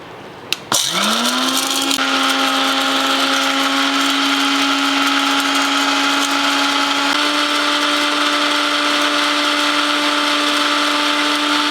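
A kitchen mixer grinder used only for grinding medicines whirs up to speed after a click and grinds homemade tooth powder in a loud, steady, high-pitched drone, heard alone without talking.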